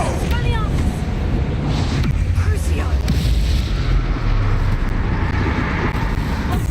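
Confringo blasting spell explodes in the Hogwarts Legacy video game, heavy booming blasts rolling through a dense, continuous battle din, with someone shouting over the chaos.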